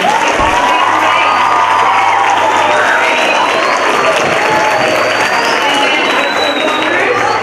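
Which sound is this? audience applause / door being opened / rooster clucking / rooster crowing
audience applause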